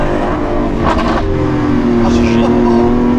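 A Lamborghini Aventador Ultimae LP780-4 V12 on its stock exhaust with particulate filter revs and holds a loud, steady droning roar up close, with a voice talking over it.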